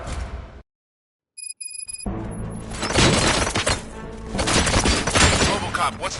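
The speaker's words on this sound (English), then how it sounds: "Gunshots? What's going on?" A burst of gunfire erupts in RoboCop: Rogue City after a brief silence, rapid heavy shots with shattering impacts rolling on loud and dense, mixed with game voices.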